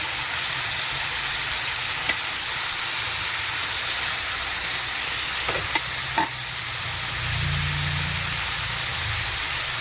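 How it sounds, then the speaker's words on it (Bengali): Chopped tomato goes into a pan of frying vegetables, giving a steady, close sizzle throughout with a few small clinks and scrapes and a brief swell of hissing near the end. "টমেটো কেটে রেখেছি, এটা দিয়ে দিচ্ছি।"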